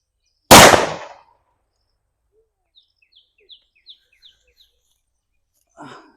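A Valangaiman country firecracker goes off in a single sharp, loud bang during testing, followed by quiet with a few faint distant bird chirps and a brief rustle near the end.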